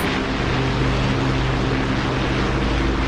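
A propeller aircraft taking off in the DCS flight simulator game, a constant loud engine drone with a steady low hum and no voices.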